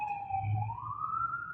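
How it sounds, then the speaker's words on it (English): Police car siren wailing outside, a single rising and falling tone passing at moderate distance, alone with no voices. "Sorry about the police car"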